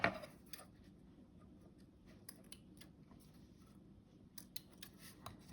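Scissors cutting card for a concertina pocket card, faint scattered snips and clicks over low room noise, with one sharper sound at the start and no talk.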